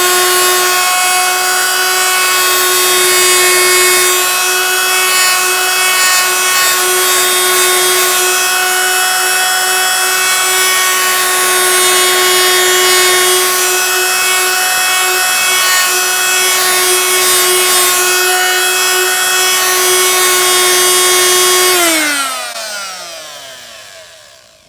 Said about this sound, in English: And then I'll turn the multi-tool on.